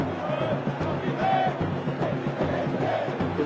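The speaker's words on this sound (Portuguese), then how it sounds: "É aquela torcida cantando" Corinthians football supporters sing together in a packed stadium, a dense, steady wall of crowd chanting with a rhythmic pulse and no pause across the whole stretch.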